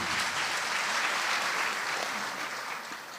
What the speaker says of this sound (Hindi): एक बार जोरदार ताली बजाकर इनका अभिनंदन किया।